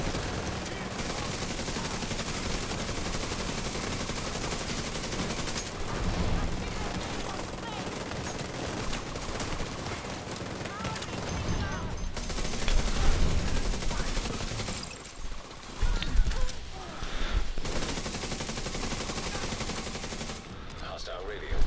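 Rapid gunfire and bursts from a video game battle in Brooklyn, loud and dense throughout, with heavier volleys partway through and voices talking over the shooting.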